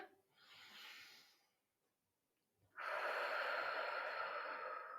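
A steady, close breath drawn in while holding a standing yoga posture for back flexibility, a soft airy exhale first, a pause, then a long loud inhalation that fills the rest.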